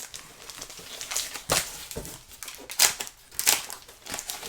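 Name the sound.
painter's tape being torn off a package during unboxing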